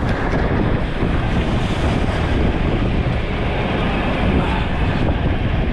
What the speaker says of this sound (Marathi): आज वारा जास्त आहे